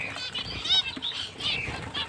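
Finches, among them Bengalese and Java finches, flutter in a room-sized aviary holding about fifty birds, with quick bursts of wing flapping mixed with thin high chirps, close and moderately faint.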